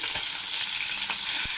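Fish sizzling as it fries in hot oil, a steady broadband crackle running throughout with a few soft pops, close and alone with no talk.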